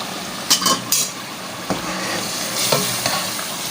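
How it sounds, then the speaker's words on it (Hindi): Masala with yogurt frying in a pan, a close steady sizzle with a few sharp scraping stirs near the start, loud and with no voices. "मसाला ज़रा ज़्यादा भूनते हैं, अभी ये भून ही रहा है।"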